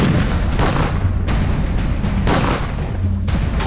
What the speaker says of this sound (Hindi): पहले इमारत की छत पर ये मोर्चेबंदी और फिर ताबड़तोड़ फायरिंग।